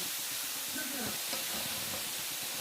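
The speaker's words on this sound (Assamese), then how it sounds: "ভাজি দিব এতিয়া" A pan frying with a constant soft sizzling hiss, accompanied by faint low scraping and stirring sounds.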